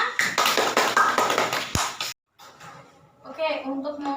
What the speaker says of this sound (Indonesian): Berikan aplaus untuk Nina.